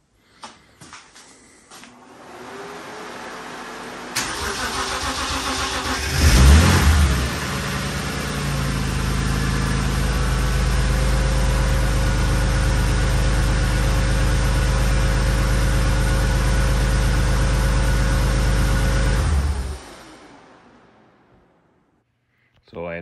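A BMW E21 with a turbocharged M50 engine starts and then runs at a steady rumbling idle with a brief rev near the start, close and loud, before shutting off into silence. A voice can be heard.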